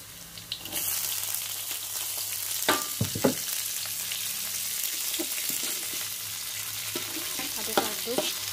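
Chili and tomato frying with eggplant in a pan, a steady close sizzle throughout with a few sharp clicks and scrapes of stirring.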